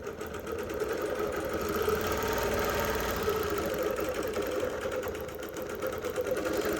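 A Bernina Q24 longarm quilting machine stitches along the edge of a quilt, giving a steady, continuous mechanical hum with rapid rhythmic needle pulsing, close and moderately loud throughout, with no talking.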